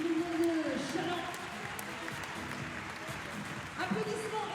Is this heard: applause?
yes